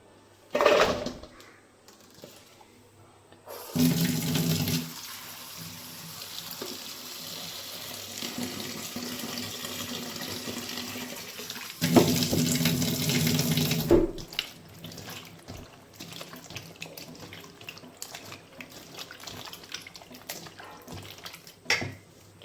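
Kitchen tap water gushes over cut ridge gourd and a small potato, two loud sustained bursts of running water with a quieter stretch of rinsing and splashing between them and faint clatter afterward.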